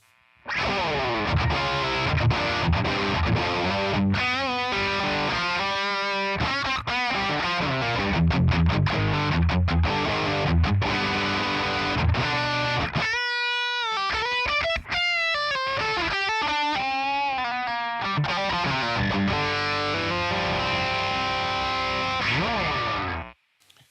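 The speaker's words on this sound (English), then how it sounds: "Grunge sounds and raw distortion with a lot of noise" Heavily distorted electric guitar through a distortion pedal plays loud, noisy, grunge-style sustained chords and riffs, with a brief pause and bent lead notes partway through, cutting off abruptly at the end.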